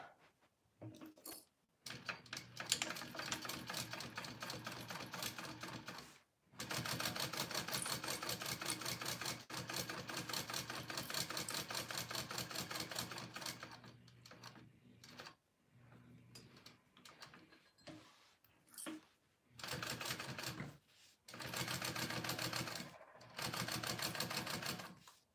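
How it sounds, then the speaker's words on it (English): A sewing machine top stitching a tote bag, running in long steady mechanical bursts, each lasting several seconds, separated by short stops and brief handling noises. It sounds close and fairly loud, with no one speaking. "I'm gonna go ahead and top stitch that, just like that."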